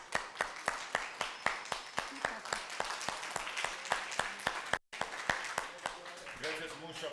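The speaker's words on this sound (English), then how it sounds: "Let's just give an applause to him." A small audience claps steadily for the speaker at a session on corporate accountability. The claps are crisp and evenly spaced, with talk running underneath.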